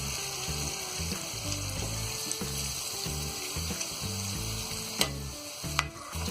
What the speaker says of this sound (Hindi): अब यहाँ हम पनीर को फ्राई कर लेंगे